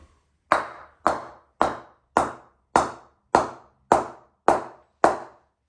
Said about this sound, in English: let's do that good old mallet test now, working our way from the toe up to the base of the stickers